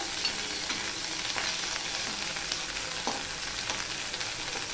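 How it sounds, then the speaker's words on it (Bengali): Steady sizzling of onions frying with occasional scraping taps of a spoon stirring through the pan, close and continuous, no voices. "পেঁয়াজটা একটু নেড়ে দেবো"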